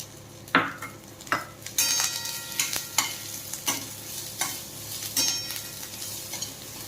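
Peas, carrots and capsicum are stirred in a frying pan, a soft continuous sizzle broken by repeated scraping and tapping strokes of a spoon at an uneven rhythm, close and fairly quiet, with no talking.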